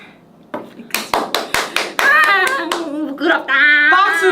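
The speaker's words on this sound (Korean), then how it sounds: "박수! 박수!" Hands clap in a quick burst of sharp, separate smacks, then the clapping runs on under cheerful chatter and laughing voices during a K-pop group's casual live broadcast.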